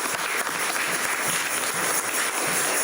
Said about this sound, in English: I think we owe them a big round of applause.